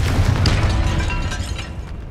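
A Confringo fire spell bursts in Hogwarts Legacy, a loud booming explosion with a deep rumble that rolls on and slowly fades inside a stone tomb.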